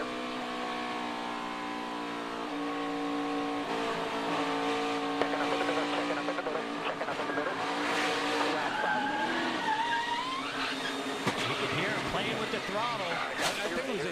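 A NASCAR stock car at the 2018 FireKeepers Casino 400 gets loose, makes contact and spins, tires squealing in rising and falling screeches over a loud, steady roar of race engines, with a commentator talking throughout.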